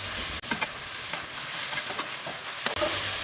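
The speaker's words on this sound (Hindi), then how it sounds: "चिकन को हमें टमाटर अदरक लहसुन और प्याज में ही भूनना है अच्छी तरह" Chicken being fried with tomato, ginger, garlic and onion for Bombay biryani, a steady close sizzle with a few scraping stir strokes and clicks of the spoon against the pan, no talk.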